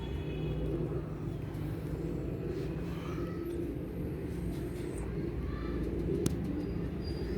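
Flying pigeons heard outdoors: faint cooing and occasional soft chirps over a low, constant background rumble of passing traffic, all fairly distant and quiet.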